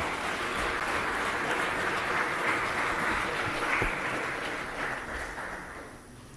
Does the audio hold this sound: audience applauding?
yes